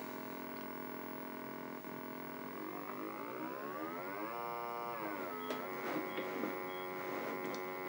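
Electronic tones from the racing game Turbo on a ColecoVision console: a steady buzzing engine drone that sweeps upward in pitch, levels off, then drops and rises again, with faint blips.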